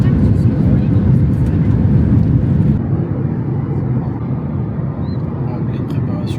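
Steady broadband roar of an airliner cabin in flight on a roughly three-and-a-half-hour trip to the Bahamas, loud and continuous, easing slightly in level partway through, with faint talk beneath the engine drone.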